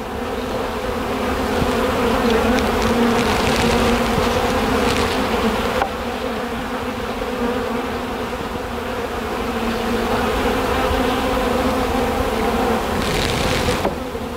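Honey bees swarm around an open hive box, producing a loud, dense, continuous buzzing hum close by, with no talk.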